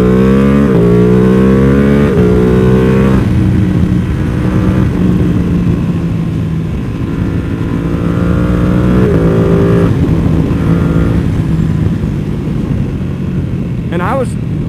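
A fully flashed and tuned 2024 BMW M1000R motorcycle accelerates hard at three-quarter throttle, its loud, close engine note climbing in pitch through several gear changes, with wind rush.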